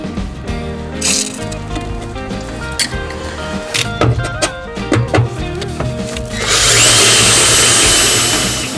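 A power drill with a dull bit grinds into metal while fabricating a camper receiver hitch, loud bursts of whining motor and scraping bite repeating, ending in a longer sustained high-pitched squeal as the bit pushes harder.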